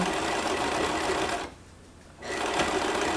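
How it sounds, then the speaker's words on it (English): A sewing machine stitches a seam along the edge of a pillow cover, a loud, steady close whir that stops for a brief pause, then resumes. "So I'm going to make my first stitching, my first seam on the edge. So I'm just sewing it on"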